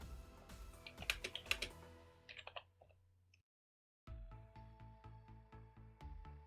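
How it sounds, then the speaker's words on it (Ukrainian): Someone types rapidly on a computer keyboard close by, producing bursts of crisp key clicks that pause briefly into silence before a second run of steady, rhythmic keystrokes. "З клавіатури ведемо значення змінних А та Б."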